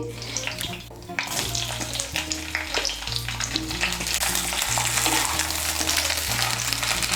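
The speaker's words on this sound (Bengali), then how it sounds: "এই তেলের মধ্যে ভেন্ডিগুলো ভেজে নেব" About 200 grams of okra frying in hot oil for masala bhindi, a loud, close sizzle with crackling bursts and stirring scrapes, growing more intense as it goes.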